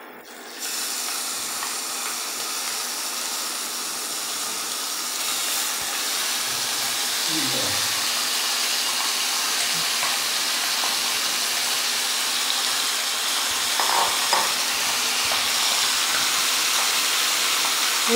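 A silver carp fish head fries in hot oil in a home kitchen, giving a loud continuous sizzling hiss that holds steady from start to finish.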